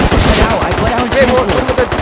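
Rapid gunshots in the survival game Rust, a quick steady string of loud, close reports, punchy and evenly spaced across two seconds.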